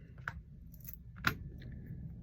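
Keys jangle in two short, bright metallic bursts close by while a door lock cylinder is tested, with faint handling noise and quiet gaps between the bursts.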